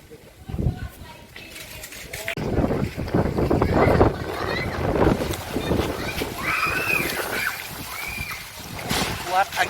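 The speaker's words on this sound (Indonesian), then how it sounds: "Kuat angin, kawan-kawan." Strong, gusty wind roars as dark storm clouds gather over a residential lane, blowing in loud, continuous broadband rushes that rise and fall in surges, with voices faintly mixed in.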